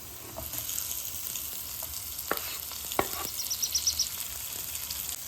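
Capsicum fries in a pan for a cashew prawn fry, a soft continuous sizzle broken by several sharp scrapes and clacks of stirring.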